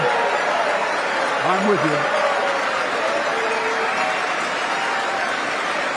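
Congress members cheering and applauding in a chamber, a dense, steady wash of clapping and crowd noise filling the whole stretch, with someone speaking briefly over it.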